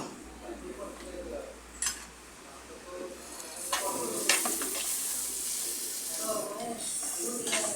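Tomatoes with salt sautéing in a pan, stirred with a spoon; soft sizzle broken by scraping and clattering strokes, several sharp knocks, with a voice speaking over it.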